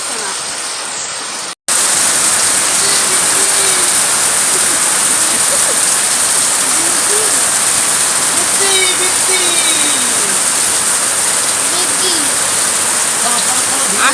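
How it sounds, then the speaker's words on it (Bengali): Heavy rain pours down in a steady, loud roar, with a brief gap near the start and a voice faintly talking underneath. "এতটা বৃষ্টি পড়ছে"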